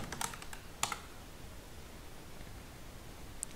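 Several quick keystrokes on a computer keyboard as a command is entered at a command prompt, clustered in a short burst near the start, then quiet with one faint click at the end.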